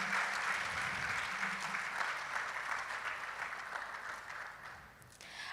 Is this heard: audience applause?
yes